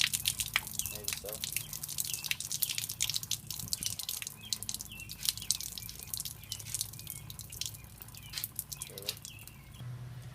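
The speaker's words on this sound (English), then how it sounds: "At the bottom there is a release, and I'm going to open it up and drain it." Coolant drains from the radiator drain of a 2001 Suburban during a radiator replacement, a quick series of close drips and light splashes, with faint voices murmuring in the background.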